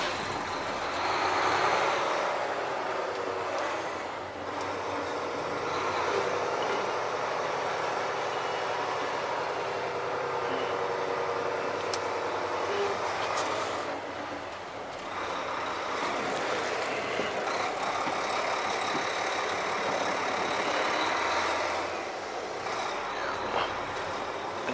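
An Estes Express truck backing into a tight loading dock, a low steady diesel rumble with faint reversing beeps and an air brake hiss, heard from the cab at moderate, even volume.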